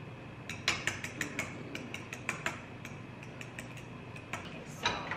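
A fork or whisk rapidly beats eggs and sprinkled cheese together in a bowl at home, making a quick run of light, clicking taps against the bowl's side, close and fairly quiet, with short pauses between strokes.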